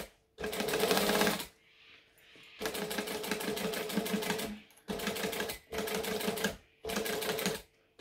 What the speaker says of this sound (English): I am also going to stitch over the top of the handly parts.